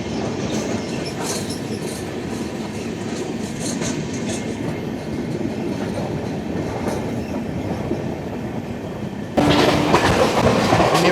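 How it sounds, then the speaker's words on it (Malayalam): The 12978 Marusagar Express train running through Nivasar station without stopping, a steady rumble of wheels with rhythmic clickety-clack and faint squeals, turning louder and brighter near the end. "നിവാസർ സ്റ്റേഷൻ വഴിയുള്ള റൺ ത്രൂ."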